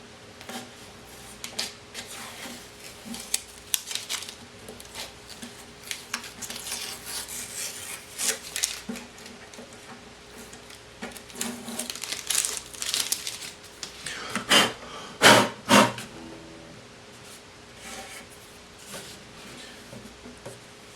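Hand sanding smooths the edges of a hole-saw sound port cut into an acoustic guitar body, a soft, uneven rasping scrub that comes in irregular strokes and grows louder toward the end, close and alone.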